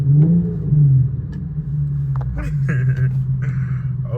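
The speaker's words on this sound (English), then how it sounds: "revving that motherfucker." An Infiniti Q50 engine revs inside a tunnel, a loud, steady low drone with rising surges, while voices and bursts of talk come in over it.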